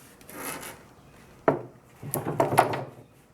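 A wooden boat hatch is turned over and knocks against a surface, with a sharp thump followed by scraping and clattering handling noises, close by and fairly quiet.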